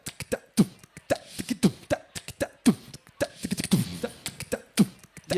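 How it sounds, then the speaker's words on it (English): Rhythm on a small Arabic dumbuk hand drum, vocalised by a beatboxer rather than struck: a repeated pattern of sharp percussive hits with deep dum-like strokes, close and fairly loud with no other talk. "plays this one rhythm over and over on a small Arabic hand drum called a dumbuk"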